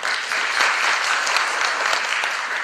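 A full room claps briskly and continuously at a university debate exhibition match, warm and dense applause holding at an even level without pause.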